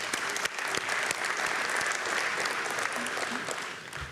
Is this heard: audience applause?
yes